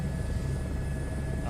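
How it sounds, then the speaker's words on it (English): Helicopter flying in Microsoft Flight Simulator 2024, a steady, dense rotor and engine drone filling the short stretch at constant loudness, with a voice speaking over it. "Helicopters, guys."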